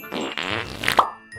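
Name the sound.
fart sound effect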